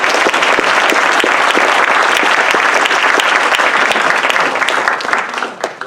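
Loud, sustained audience applause for Dr. Whitley at a campus men's health support event, a dense wash of clapping that holds steady for about five seconds before thinning out at the end.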